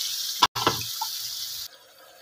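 Water poured into a pan of sautéed eggplant (ginisang talong) on the stove: a loud, steady rushing splash about two seconds long that breaks off briefly, carries on, then stops abruptly.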